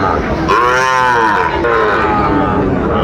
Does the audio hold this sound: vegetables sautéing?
no